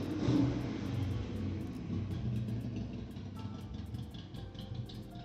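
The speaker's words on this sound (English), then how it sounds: "Fucking loud ass motorcycle outside my window." A loud motorcycle passes outside a window, its engine a muffled low rumble that rises and slowly fades, with faint clicking up close.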